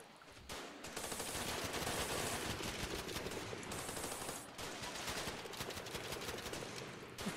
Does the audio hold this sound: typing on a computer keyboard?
no